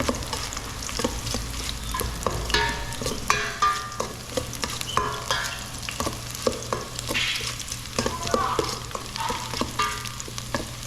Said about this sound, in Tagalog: Sarap kasi yung rekado, ginigisa muna mga paps.